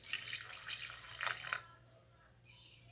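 About three cups of water splash and gush into a pot for making a cold and flu tea, a close, rushing pour for over a second, then near silence and a brief sharp knock at the end.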